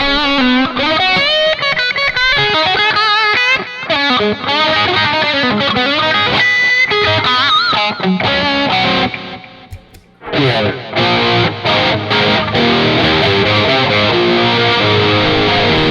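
An Epiphone Casino electric guitar runs through Fulltone OCD distortion plus delay and reverb, playing loud, sustained, echoing chords and lines that drop out briefly near the middle and then return.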